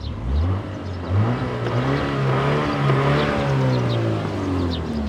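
A MINI JCW engine and exhaust rev up in repeated rising pulls, each climb whining higher before easing off, loud and close with no speech over it.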